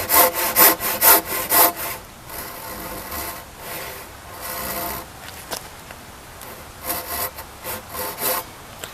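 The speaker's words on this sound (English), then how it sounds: "Now I make 2 cross cuts just to make it easier." A handsaw making cross cuts in a timber frame girt: a run of rhythmic rasping strokes, then softer steadier sawing, then more distinct strokes, loud and close with no talk.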